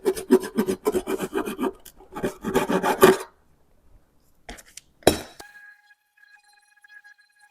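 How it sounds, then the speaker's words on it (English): Sanding a filled antique decor piece by hand, a steady close rasping scrape repeated in quick strokes for about three seconds, then quiet with a few brief clicks and knocks. "So I'm going to go ahead and get this sanded."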